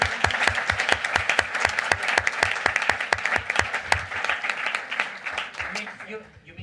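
A conference audience at the ICPerMed Workshop 2019 closing session applauds organiser Cristina, with dense, steady, rhythmic clapping from a sizable crowd that stays loud for several seconds and then thins out toward the end.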